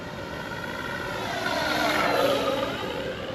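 A FlightLine Corsair RC model airplane making an easy flying pass, its propeller engine whine rising and falling in pitch as it approaches and moves away, moderately loud outdoors.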